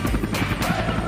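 Cartoon helicopter with a steady, loud rotor chop pulsing through the low end, continuous and close, with no talk over it.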